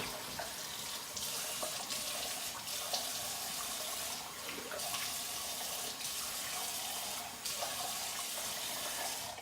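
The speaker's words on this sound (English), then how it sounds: "Go rinse real quick." Tap water runs steadily into a sink as soap is rinsed off, a continuous close hissing flow with slight shifts in splash as hands move under the stream.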